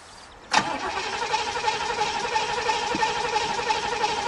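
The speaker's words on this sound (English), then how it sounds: "Now, the man from Wales has got to start the chokeless Pontiac." An old, chokeless Pontiac engine cranks and catches abruptly, then settles into a steady, rough idle that runs on loudly and close with no talk.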